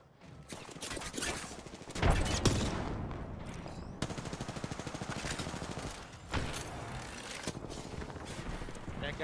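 Players' guns firing in a video game: dense bursts of rapid automatic gunfire and sharp single shots, fairly close, with a steady rattling volley in the middle stretch and a few heavier cracks.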